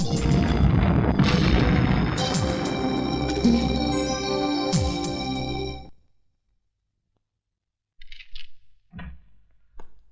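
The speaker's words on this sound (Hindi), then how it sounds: "अपने गोडाउन के धमाकों की आवाज को सुन" Warehouse explosions in the 1993 Hindi action film Aadmi make a loud, continuous booming roar with deep rumble for several seconds, then cut off abruptly to silence before faint scattered noises follow.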